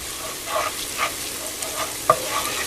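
Ginger garlic and whole masalas frying for goat curry give a soft, steady sizzle close by, broken by a few stirring scrapes and one sharp clink of a utensil against the pan.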